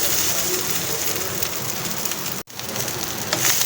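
Okra sizzles lightly in a pan as it fries, a dense, steady crackle that breaks off for an instant partway through and then resumes.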